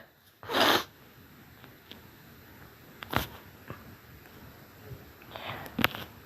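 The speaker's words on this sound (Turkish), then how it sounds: "Daha deminden beri burnumu çekiyorum gene başladı bak." A sharp burst of nasal sniffing, then a few quieter sniffs and snorts spaced out over several seconds, close up with no talking.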